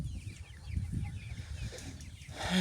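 Soft clucking of chickens scattered over an outdoor background, ending with a louder sound at the close.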